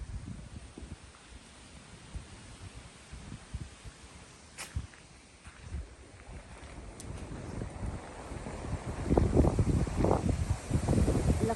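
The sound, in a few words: strong wind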